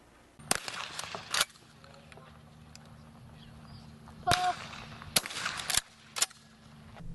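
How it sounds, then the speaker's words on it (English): Shotguns firing at a high school trap shooting session outdoors, several sharp cracks spaced irregularly, some near and loud, others fainter, with gaps of quiet between. "Students at Roseville High School are participating on a trap shooting team."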